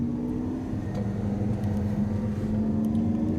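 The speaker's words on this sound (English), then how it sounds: "this is the Lamborghini Aventador against the Ferrari F12. And it's a rolling start from 50 kilometers per hour" A Lamborghini Aventador and a Ferrari F12 Berlinetta race from a 50 km/h rolling start, their engines droning in a steady, strong hum that swells slightly toward the end, with no one speaking.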